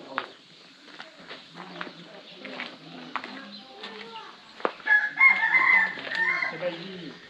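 Chickens cluck and a rooster crows around a village coop with nesting baskets in Muang Ngoi, Laos. The calls come in scattered bursts, with a louder, fuller stretch of crowing near the end amid people moving about nearby.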